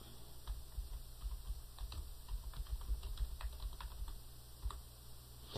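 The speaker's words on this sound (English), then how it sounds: "we want to go ahead and type that name out" Quiet, steady typing on a computer keyboard, a continuous patter of individual key clicks while a name is entered, with no talk.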